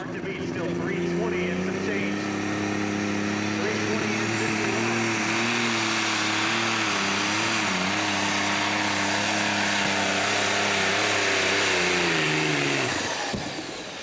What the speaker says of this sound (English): getting those RPMs up and getting that speed that he needs to pull the heavy sled down the track